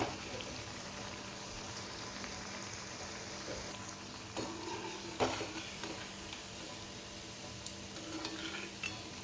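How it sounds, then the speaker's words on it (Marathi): Coriander pakoda frying in hot oil, a soft, steady sizzle and bubbling at low volume with a few light clinks and stirring sounds scattered through. "आणि दुसरी बाजू व्यवस्थित तळून घ्यायची आपण"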